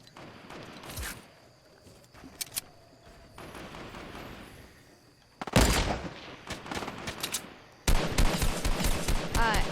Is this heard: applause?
no